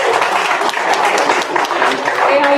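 Audience applause at an international conference, a dense steady wash of clapping from a crowd with voices mixed in throughout.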